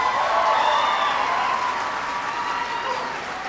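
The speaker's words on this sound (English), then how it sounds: "Give him a big round of applause." Town hall audience in Costa Mesa, California, giving sustained applause with cheering, a loud, even roar of many hands clapping throughout with a few whoops rising over it.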